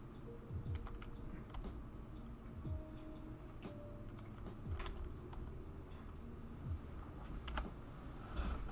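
Someone types on a computer keyboard while entering terminal commands. Quiet, irregular key clicks come in short bursts with brief pauses between them, and no one speaks.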